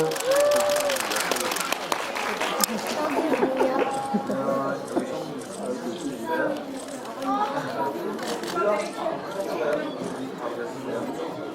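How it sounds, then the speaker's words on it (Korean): An audience applauds at a cinema stage greeting after a screening of the film 숲속의 전설, with steady clapping mixed with crowd chatter and voices throughout. "박수 한 번 주세요, 여러분"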